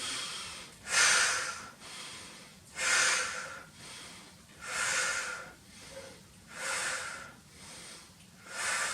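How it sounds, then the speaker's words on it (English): A person doing Pilates takes air in through the nose and blows it out through the mouth, five or six steady breath cycles in an even rhythm, each exhale a loud, close, airy whoosh. "I'm breathing in through the nose and I'm exhaling through the mouth the whole time."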